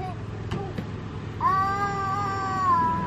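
A cat gives a single drawn-out meow, loud and close, after a brief quiet lead-in of faint room noise.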